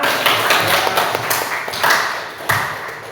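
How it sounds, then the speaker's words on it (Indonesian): Schoolchildren in an Indonesian classroom clap together at the teacher's prompt, a dense, uneven patter of hand claps with a few sharper accents, fairly close and steady for about three seconds. "Beri tepuk tangan anak-anak."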